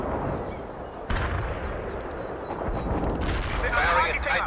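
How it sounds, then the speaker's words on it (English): An artillery barrage in the World in Conflict: Soviet Assault video game, a continuous rumble of distant booms with a sudden heavier blast near the start and a louder surge of explosions toward the end. "Firing a tight barrage at the target area."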